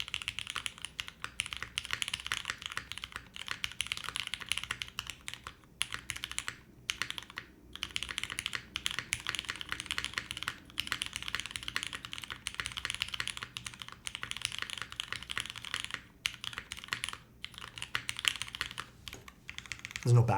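Typing on a custom Derivative mechanical keyboard build, a quiet, fast stream of clacky keystrokes with short pauses, close to the microphone and heard alone.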